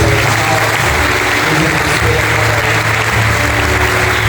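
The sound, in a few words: audience applause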